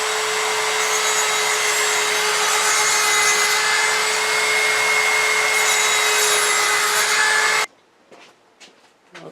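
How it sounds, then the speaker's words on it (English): Hand sanding of a wooden fluted pot on a woodturning project, a steady close abrasive rubbing hiss that runs continuously for several seconds, then stops abruptly, leaving a few faint scattered knocks. "I'm going to come back and do a little sanding."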